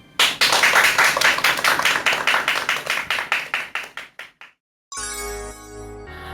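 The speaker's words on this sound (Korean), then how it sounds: "강연 박수로 청해 듣도록 하겠습니다." Audience applause at a lecture bursts out and fades over several seconds, dense clapping thinning to scattered claps before a brief silence and then music.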